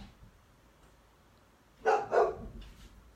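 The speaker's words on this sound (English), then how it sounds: "there's a dog barking outside" A dog barks a few times in a quick cluster, somewhat distant and muffled as if outdoors, after a quiet stretch of low background noise.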